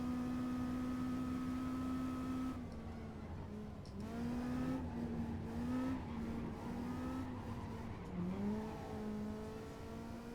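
Small lawnmower engine buzzing steadily in an online Assetto Corsa race at Silverstone, its pitch climbing and dropping through revs and shifts, with brief tire noise and a continuous drone throughout.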